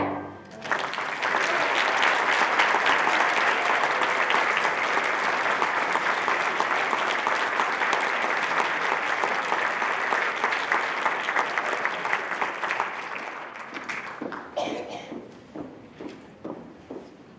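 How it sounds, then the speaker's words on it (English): Audience applause after a song at a high school winter concert, a full, loud burst of clapping from a large crowd that holds steady for about twelve seconds, then thins into scattered claps. "How about one more round of applause for our first time?"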